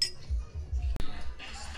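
Glasses clink together in a toast at a kombucha festival, a single sharp bright chink standing out from the background voices and crowd chatter.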